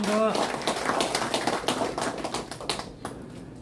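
An audience at a calligraphy exhibition opening in Insadong gives a burst of dense, crackling applause that fades toward the end. A voice can be heard at the very start.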